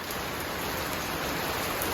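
Rain falls steadily outdoors where a child is playing, making a dense, even hiss of drops that stays at one level throughout, with no voices.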